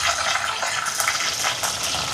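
Small shallots sizzling in hot oil with curry leaves, green chillies and garlic, cooked for a Jaffna-style stingray fish curry; a steady, close hiss of frying with no talk.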